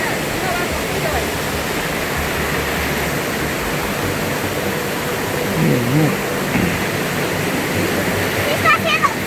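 Waterfalls in San Isidro, Macas, Ecuador pour with a loud, constant roaring rush close by, while voices talk briefly over the water near the end.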